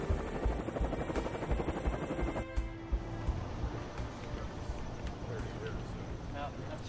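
Marine One, the presidential helicopter, on a lift from JFK toward downtown Manhattan, a steady loud rotor thrum and turbine whine that continues throughout, with an abrupt shift partway as the sound changes character.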